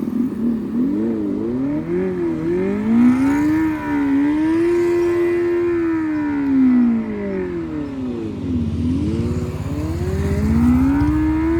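A Revolt electric motorbike plays a simulated superbike engine sound through its speaker: loud, continuous revving that swells and falls in long smooth sweeps, like a Kawasaki-style sport bike revving up and down.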